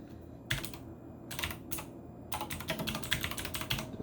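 Computer keyboard typing in short bursts of quick keystrokes, with pauses between them, close and quiet over a low room hum while a command is entered.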